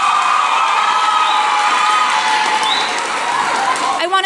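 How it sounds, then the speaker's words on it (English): An audience at a teen press conference held by the National Book Foundation applauds and cheers the book publishers, sustained loud clapping with crowd cheering mixed in, easing slightly toward the end. "Round of applause for our publishers."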